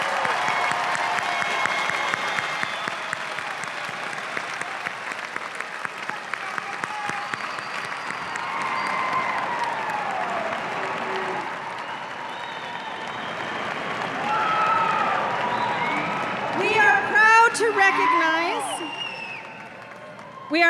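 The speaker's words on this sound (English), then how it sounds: "Please join me in applauding these graduates for their academic" A large commencement audience at Manoa applauds graduates: sustained, moderately distant clapping fills the hall for most of the stretch, and near the end a few voices and cheers rise above it.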